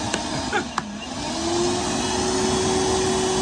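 Milwaukee M12 cordless vacuum running close up as a loud steady whir with a sustained motor whine, preceded by a few brief clicks and knocks.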